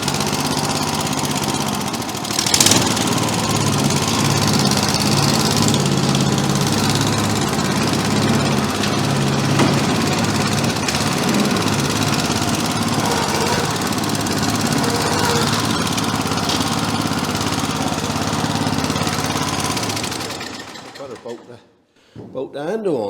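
An old Sembdner grass seeder's small engine runs loud and close, a steady rough chugging throughout that cuts off abruptly near the end.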